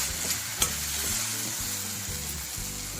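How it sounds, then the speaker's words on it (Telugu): Chopped onions fry in a pan, and two tomatoes go in with them. A steady close sizzle runs throughout, one sharp knock rises early, and a low rumble sits underneath. No one speaks. "ఇప్పుడు ఉల్లిపాయ కొంచెం వేగింది కదా, ఈ 2 టమాటాలు వేసేసుకుందాం."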